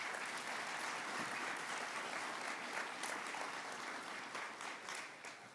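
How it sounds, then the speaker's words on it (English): Audience applause for the families at a medical school white coat ceremony, a steady wash of clapping from a large seated crowd that holds strong throughout and thins slightly toward the end. "So let's give them a quick round of applause."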